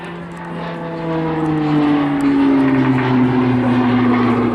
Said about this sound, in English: the Tucano you see flying in front of you today is the stepping stone for flying a military fast jet